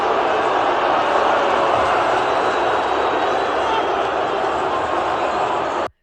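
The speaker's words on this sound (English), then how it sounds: "Listen to the boos." A large WWE wrestling arena crowd boos loudly and continuously during a botched WrestleMania stage reveal, a broad roar of disapproval that cuts off abruptly at the end.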